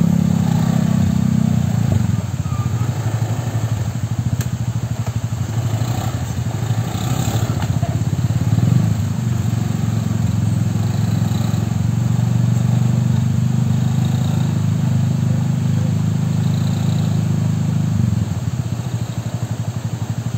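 A motorcycle engine runs steadily and loudly close by on a mountain trail on Mount Wilis, a constant droning rumble that carries on for the whole stretch with no talking.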